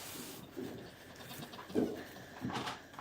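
Goats on a farm bleating softly at a distance, three short faint calls spaced about a second apart over quiet background noise.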